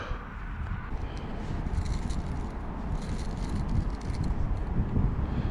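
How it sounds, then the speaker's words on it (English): Steady wind blustering outdoors at a fishing spot, a continuous broadband rush with low rumbling buffets across the whole stretch and no voices. "This wind is becoming a pain because it's really blowing the, the lure right back into the bank"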